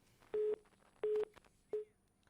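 Telephone disconnected tone, three short electronic beeps at an even pitch, evenly spaced and moderately clear over a quiet line hiss.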